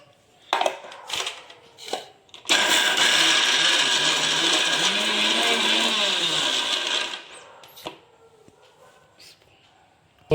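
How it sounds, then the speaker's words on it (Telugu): A mixer grinder grinds ginger pieces with a little cinnamon and cloves, a loud steady whirring roar lasting about four and a half seconds, preceded and followed by clattering handling noises of the jar. "మనం దంచి పెట్టుకున్న అల్లం ముక్కలు, పట్ట కొద్దిగా, లవంగం కొద్దిగా వేసి గ్రైండ్ చేసుకోవాలి"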